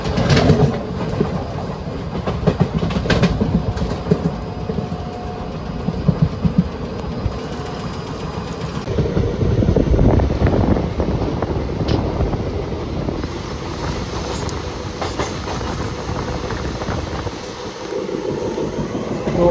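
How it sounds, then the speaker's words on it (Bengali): The 12311 Netaji Express from Howrah to Kalka runs along the rails with a loud, steady rumble, rhythmic clickety-clack and rushing wind noise, shifting intensity midway through. "তো আমাদের ট্রেন এই মুহূর্তে তো ইউপিতে ঢুকে পড়েছে।"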